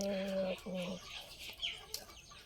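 A Thai fighting rooster lets out a couple of short, nasal clucks up close as it is caught, followed by scuffling and faint handling noises at low volume.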